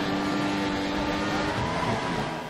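Race car engine in a racing video game set at a Malaysia circuit, a steady loud droning whine held throughout with no talk over it.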